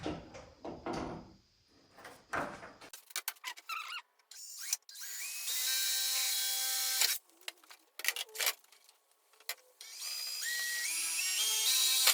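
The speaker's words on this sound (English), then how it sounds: "You gotta drill a hole" A power drill whines in several bursts while drilling holes in fiberglass fenders, its pitch rising as it bites, mixed with clunks and handling noises between runs.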